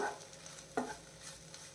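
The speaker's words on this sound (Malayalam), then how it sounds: "ഇനിയിപ്പോൾ അത് തുറന്ന് വെച്ച് നമുക്കൊരു രണ്ട് മിനിറ്റ് ഇതുപോലെ ഇളക്കി കൊടുക്കാം" Oats upma is stirred in an open pan, soft scraping strokes over a faint sizzle, with one sharper knock of the spoon partway through, quiet and close with no speech.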